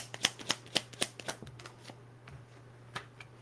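Tarot cards being shuffled by hand, with crisp riffling snaps in a quick rhythm that gradually slows and softens into scattered flicks, close up and without talk.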